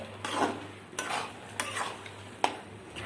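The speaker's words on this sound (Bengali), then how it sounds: "মশলার সঙ্গে আমি ভালো করে একটু কষিয়ে নিচ্ছি।" Boiled potatoes are stirred with spices in a kadai while making ghugni, with soft scraping strokes of a spatula about every half second over a faint low sizzle, quiet and close.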